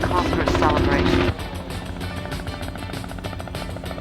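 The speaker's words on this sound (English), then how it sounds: "a conversation with Peggy, who, may I remind you, is flying a helicopter" A helicopter in an action movie scene whirs in the background, with a steady rotor drone under louder music and dialogue, dropping a little in level partway through.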